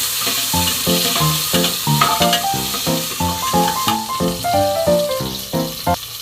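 Onion, tomato and ginger sauté in a pan for pork sinigang, a close sizzle running underneath a loud, rhythmic tonal melody that pulses in steady beats throughout.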